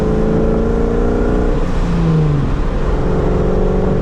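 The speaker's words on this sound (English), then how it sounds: "I have an off-road X-Pipe paired up with a set of Borla Stingers." A Ford NewEdge Mustang with an off-road X-pipe and Borla Stinger exhaust drones steadily and loud, the engine rising and falling slightly in pitch, continuous and close, with no talk.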